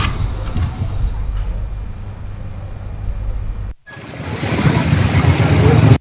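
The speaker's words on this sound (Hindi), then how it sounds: "बेतिया नरकटियागंज मुख्य सड़क पर 3 से 4 फीट तक बाढ़ का पानी बह रहा है" Flood water three to four feet deep rushes across a main road, a loud, continuous roar of flowing water with wind buffeting, cut briefly before resuming.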